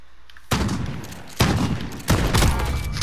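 Gunfire from a Call of Duty match, three loud full bursts of shots at roughly half a second, 1.4 and 2.1 seconds, each sustained and rattling, close and dominant with no talk.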